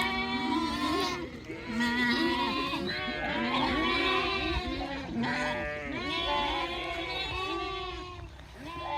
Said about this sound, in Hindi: तो ये भेड़ें वापस आई हैं,